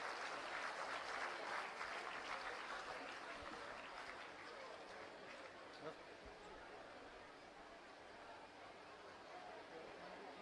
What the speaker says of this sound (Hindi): एक बार जोरदार तालियों से आइए हम सर का स्वागत करें।